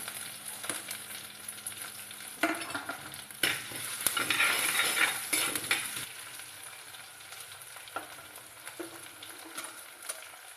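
Green chili and curry leaves fry in coconut oil with mustard seeds, ginger and garlic in a clay pot, giving a steady close sizzle broken by occasional stirring scrapes, with no talking.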